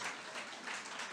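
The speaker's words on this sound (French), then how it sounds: "on peut s'applaudir, bravo!" Brief burst of audience applause at an evening show, a dense wash of clapping at steady loudness with no voices standing out.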